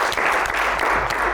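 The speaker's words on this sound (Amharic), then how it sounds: "አጨብጭቡላቸው።" Brief burst of audience applause at a lively Saturday-afternoon quiz game show, many hands clapping close and loud in a dense, continuous patter.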